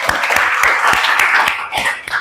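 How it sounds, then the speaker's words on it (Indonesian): A classroom of students claps after a group presentation, a brief burst of lively, fairly loud applause with scattered individual claps. "baik, kita berikan tepuk tangan."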